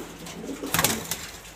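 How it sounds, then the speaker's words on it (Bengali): Pigeons coo softly close by in a loft, a brief low burst of cooing with a few wing flutters and no voices. "এখানে অনেকগুলো কবুতর আছে"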